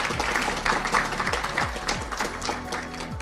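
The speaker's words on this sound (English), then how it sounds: "So let's give them a round of applause." An audience applauds a visiting delegation from the UK and Wales at a strategic plan launch event, with dense clapping running steadily for a few seconds and a low rhythmic thumping underneath.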